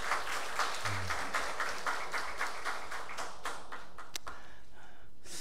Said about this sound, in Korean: 은혜로운 찬양해 주신 우리 성가대원들에게 다시 한번 감사의 박수하겠습니다.